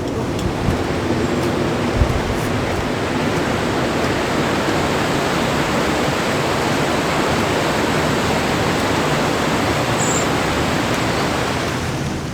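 The River Bollin rushes steadily beneath a bridge, a dense, even roar of flowing water that holds at the same loudness throughout.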